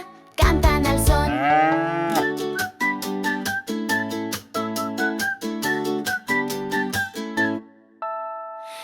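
A children's farm song plays with a short moo at the start, followed by a bouncy, whistle-like melody of evenly spaced notes over a steady beat.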